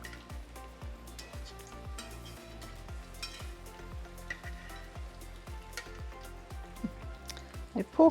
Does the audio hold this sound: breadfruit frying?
yes